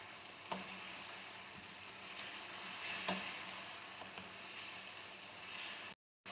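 Chicken karahi sizzles and fries in a pan as spices are stirred through, a steady hiss with occasional scraping clicks of the spoon, fairly faint and continuous, cutting out briefly at the end.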